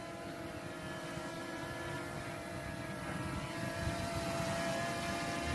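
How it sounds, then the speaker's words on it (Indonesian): Two drones, an S5S and an R103, hovering outdoors in breezy conditions, making a steady, continuous propeller buzz and whir that holds at moderate volume throughout with no pauses. "saya bisa menerbangkan dua drone tanpa harus mengendalikan repot-repot."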